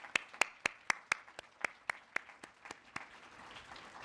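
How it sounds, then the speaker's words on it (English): A round of audience applause at a data conference opening, led by loud, evenly spaced nearby claps that gradually soften and thin out into a fainter background patter. "Let's give them a round of applause."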